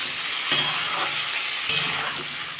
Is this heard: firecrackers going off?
no